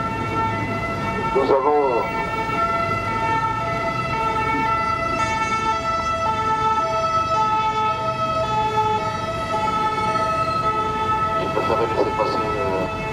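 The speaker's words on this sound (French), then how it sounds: "laisser passer l'ambulance." A wailing ambulance siren drones steadily through a street rally for Tibet, held loud and continuous throughout, while someone speaks over a loudspeaker and traffic rumbles underneath.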